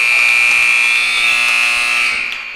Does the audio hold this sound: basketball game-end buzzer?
yes